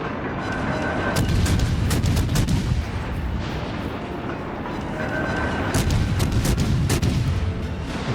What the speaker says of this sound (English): Let's turn in, dodge one salvo from his rear guns.